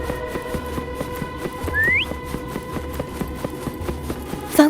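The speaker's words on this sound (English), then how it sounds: "Try whistling." A rising whistle calls a horse in a video game, one short upward-sliding note over steady rhythmic hoofbeats and ambient background, followed by a brief second chirp at the end.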